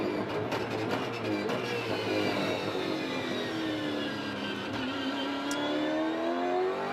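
An onboard V8 Supercar racing engine, driven by Jamie Whincup in the 2013 Austin 400 race, roars at high revs continuously, its tone sweeping down and back up through gear changes, loud and close.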